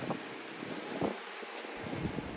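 Steady wind rushes over the open sea aboard a small sailboat heading for Sicily under damaged sails with no engine, a constant breathy roar with soft gusts and faint rustling close to the microphone.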